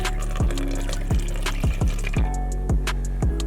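Water poured into a snow foam bottle, a steady rushing splash broken by repeated glugging pulses as the bottle fills, close and clear with no talk.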